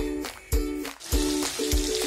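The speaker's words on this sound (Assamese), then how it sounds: "তো মই ইয়াতে মাছবোৰ ভাজিম এতিয়া" Fish fry in a hot kadai with a bubbling sizzle broken by repeated sharp bursts, as if pieces are dropped into the oil one after another.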